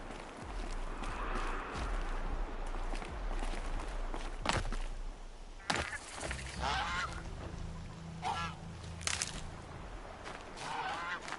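Geese honk in the video game Horizon Zero Dawn. Repeated nasal calls sound over a steady outdoor ambience, and footsteps crunch along underneath.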